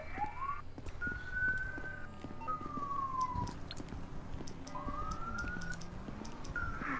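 Police sirens in GTA 5 wail with long rising and falling sweeps, loud and continuous over busy game noise with scattered clicks and thumps.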